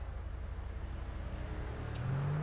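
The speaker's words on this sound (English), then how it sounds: "I was hearing a race car, too. Like, not a race car, but a sports car." A sports car engine revs up within a GTA V roleplay game, a steady low drone that climbs into a rising whine near the end, heard alone without talk.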